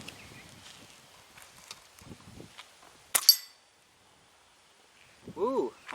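A .177 QB78 air rifle with open sights fires a single sharp crack at a spinning target, preceded by faint handling noise, with a voice speaking afterward.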